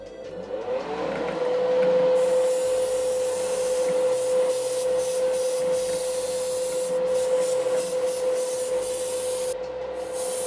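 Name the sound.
spray booth exhaust fan on high while spraying water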